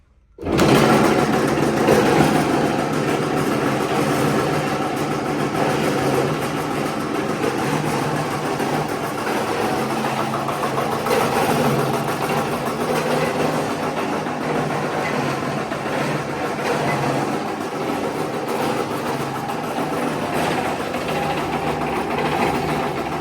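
A Malwa agricultural toka chaff cutter machine starts up and runs continuously with a steady, loud mechanical drone and rhythmic rattling, close by and without talking.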